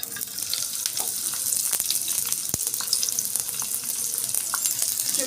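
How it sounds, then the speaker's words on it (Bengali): Chopped onions fry in ghee in a pan with a loud, dense hiss and crackle, with occasional utensil taps over the continuous sizzle, and no talk. "কিছুটা হালকা বাদামি কালার করে ভেজে নিব"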